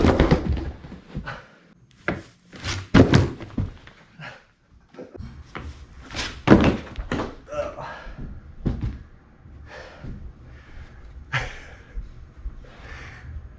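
Skateboard on carpet during kickflip attempts: a string of muffled thuds and clacks, irregular and close, with quiet gaps between impacts and occasional scuffing.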